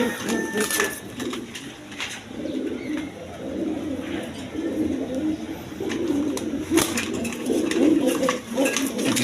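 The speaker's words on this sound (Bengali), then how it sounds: "এখানে এক পেয়ার শৌখিন কবুতর আছে দেখেন ব্ল্যাক কালারের মধ্যে কোয়ালিটি সম্পন্ন কবুতর" A pair of fancy black pigeons coo steadily in low, throaty murmurs, close by and continuous, with faint background noise and no clear talk.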